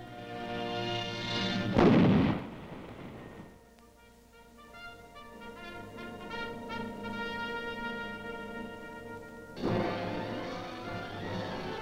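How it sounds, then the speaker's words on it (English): A heavy artillery-like boom near the Korean armistice line hits sharply and rolls off, followed by a droning, steady tone and then another loud burst near the end, fairly distant and reverberant. "Day or night, the sound of an explosion could mean either a practice alert or the real thing."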